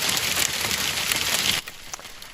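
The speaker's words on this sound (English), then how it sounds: "Rain and hail pummeling parts of the Fox 9 viewing area this Memorial Day." Heavy rain and hail on a Memorial Day storm, a dense loud patter of drops hammering a surface, easing suddenly near the end to lighter scattered hits.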